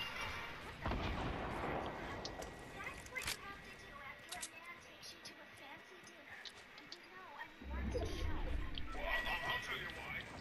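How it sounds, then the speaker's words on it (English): Gunfire in the Fortnite video game, with repeated booming shots and sharp bursts at a steady loud level, and heavier blasts near the start and end. "They're shooting at that other base."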